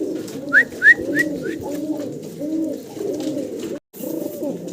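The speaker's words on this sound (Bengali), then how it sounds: "মাশাল্লাহ মাশাল্লাহ খুব অ্যাক্টিভ খুবই অ্যাক্টিভ ডাকাডাকিতে ব্যস্ত আছেন নর মাদি" A pair of fancy pigeons, male and female, coo in close, repeated rolling phrases, with a few brief higher chirps early on and a short gap near the end.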